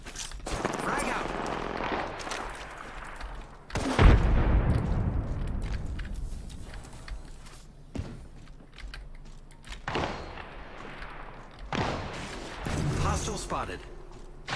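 A frag grenade thrown and detonating in Apex Legends Season 4 combat, with a sudden loud, heavy boom amid scattered gunfire and game effects, while voices talk over the action.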